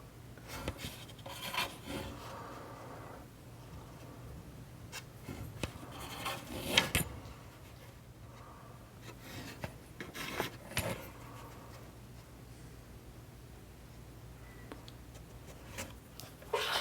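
A scraper works the inside of a carved archtop guitar plate, giving quiet, close rasping strokes in irregular bursts with a few sharper scrapes among them, all faint against low background hum.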